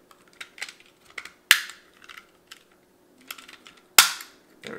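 Plastic clicks and fumbling from a driver's side window switch cross connector on a 2007-2013 Silverado/Sierra, with two sharper snaps as it seats into place amid softer handling noises.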